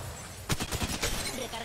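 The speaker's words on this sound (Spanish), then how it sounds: "Estoy disparando." A quick burst of rapid gunshots cracks out in Apex Legends Mobile, several close shots in a tight rhythm over ongoing game noise and background talk.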